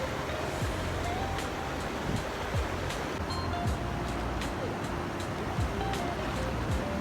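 Floodwater from a burst village pond in Pimplas rushes out, making a loud, continuous broadband roar that stays steady throughout, with a few faint sharp splashes.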